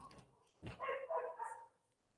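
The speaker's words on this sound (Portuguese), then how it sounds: "Os cachorros da vizinhança aí." A single short dog bark followed by a brief whining howl, fairly close, then quiet.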